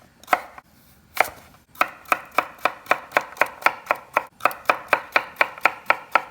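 A knife chops broccoli into bite-sized pieces on a board, with sharp, evenly spaced taps in a quick steady rhythm after a couple of isolated cuts, close and clear with no talking.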